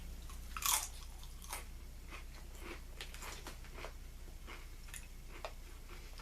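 Crunchy Lay's Crunch Tators potato chips being chewed up close, a string of sharp crisp crunches with one louder bite early on, then steady irregular munching throughout with no talking.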